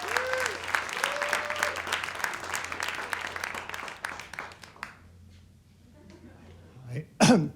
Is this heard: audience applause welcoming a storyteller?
yes